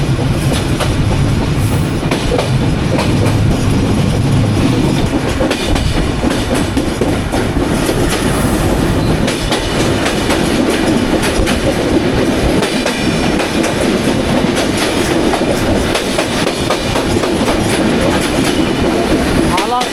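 Banolata Express train running on rails between Dhaka and Rajshahi, a loud, steady rumble of wheels on track with rhythmic clickety-clack throughout, heard close up from on board with a faint murmur of voices underneath.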